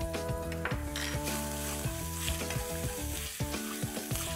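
Crushed ginger, garlic and green chili sizzle in hot oil in a wok, a steady hiss beneath a louder layer of tonal music.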